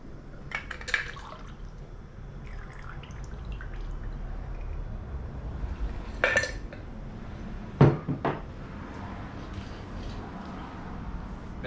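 An old fashioned cocktail is poured through a strainer into a glass. A faint trickle of liquid sits under a few sharp glass and metal clinks, with louder clinks near the end.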